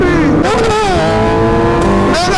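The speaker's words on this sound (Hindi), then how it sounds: "आवाज सुनाता हूँ गाइस आपको टेनर की।" A Yamaha Tenere motorcycle engine revs loudly and close, its pitch rising and falling through several throttle blips on a Sunday group ride, with wind rush over a helmet-mounted mic.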